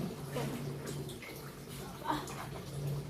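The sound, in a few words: water poured while bathing a baby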